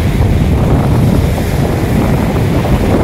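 Sea waves wash and break continuously on a beach shore, a loud, dense rushing roar mixed with gusting wind across the microphone, with no voices.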